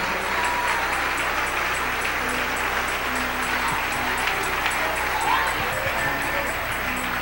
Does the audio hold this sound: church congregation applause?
yes